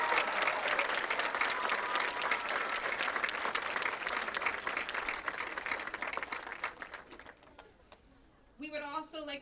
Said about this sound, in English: Let's give this class another round of applause.